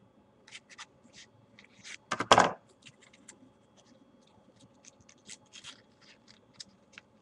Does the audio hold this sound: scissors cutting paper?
yes